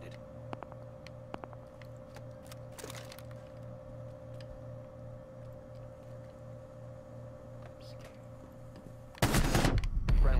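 Gunfire in the Rainbow Six Siege video game comes as two short, sharp bursts, one early and one at the end, over a steady in-game hum and faint clicks.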